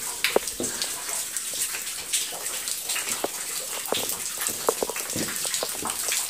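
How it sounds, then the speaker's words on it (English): Water drips inside Mawsmai limestone cave in Meghalaya, scattered irregular drops splashing close by over a steady wet hiss, with no talking. "there's water dripping and I'm getting my morning showers from them"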